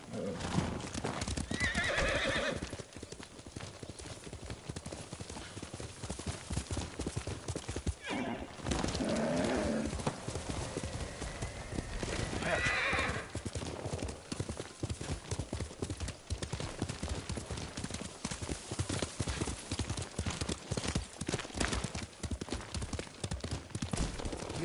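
A horse neighs and whinnies with clip-clopping hooves in the game Ghost of Tsushima, several loud neighs over steady hoofbeats and background game sound, with voices briefly audible.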